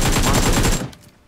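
Rapid automatic gunfire in the mobile battle royale game BGMI, 5 mm rounds, fires as a loud, close burst of about eight evenly spaced shots, then stops abruptly with a faint echo.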